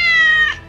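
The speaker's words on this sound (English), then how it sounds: "There's a cat on top of you!" A single loud, clear meow from a cat in the video game Garry's Mod, with a steady tone that fades at the end and no other sounds.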